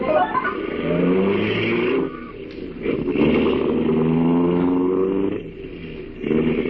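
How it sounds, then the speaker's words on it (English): A car drives off as a radio drama effect, its engine revving and rising in pitch through several gear changes, loud and close with brief dips between pulls. "And we drove off."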